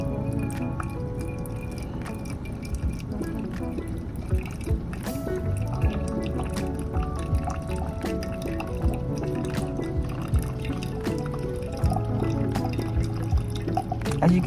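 A Keurig K-Express brews a hot water and vinegar mix during descaling, giving a steady, close gurgling and trickling stream of liquid with dripping and sputtering, continuous for the whole stretch.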